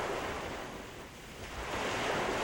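Ocean waves roll in the open Gulf of Alaska as a cruise ship heads west through building seas, a steady broad wash of surf and wind noise with no breaks or voices.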